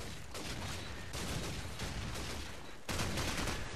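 Dense barrage of airstrike explosions in Call of Duty 4, a continuous roar of blasts and crackling booms filling the whole stretch with a fresh surge near the end, loud and close.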